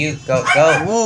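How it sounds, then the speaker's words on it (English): A dog yips and whines close by in a short burst of high, wavering barks, mixed with someone talking over it. "Sorry for the barking, guys."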